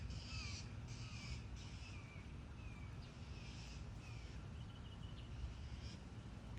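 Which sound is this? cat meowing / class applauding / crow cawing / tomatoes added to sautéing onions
crow cawing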